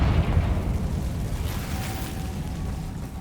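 A Confringo fire spell bursts in Hogwarts Legacy, a dense rumbling explosion that swells at the start and then holds as a sustained low roar for a few seconds, with no voices.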